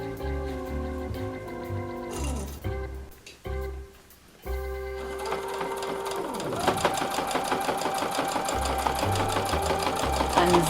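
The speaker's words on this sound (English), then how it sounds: "my next step is sewing on either side of this handle and then cutting in half." A sewing machine stitches along either side of the handle on a bow tuck tote purse, its rapid mechanical whir running in bursts with short pauses before settling into a steady, continuous run near the microphone.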